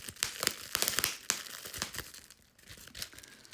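Bubble wrap from a perfume package crumples and crinkles in a run of sharp crackling bursts at close range, with no talking over it.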